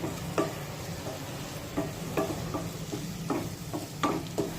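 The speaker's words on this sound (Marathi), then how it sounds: "हे सर्व मसाले तेलामध्ये व्यवस्थित परतून घ्यायचे" Spices sautéing in oil over a low gas flame for a sprouted moth bean curry: a faint, steady sizzle with soft, irregular clicks of a spoon stirring in the pan.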